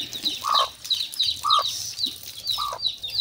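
Backyard chickens in a home coop cluck in short repeated bursts about once a second, with higher chirpy notes between them, fairly close and with no talk.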